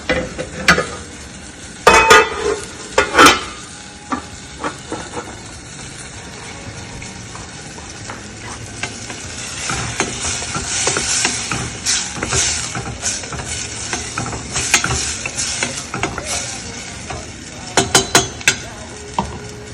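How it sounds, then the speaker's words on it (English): Tomatoes and onions cooking in a pot, stirred with a utensil that scrapes and clinks against the sides in scattered bursts over a soft, steady sizzle, close and without voices. "Just stir it and make sure it's not burning."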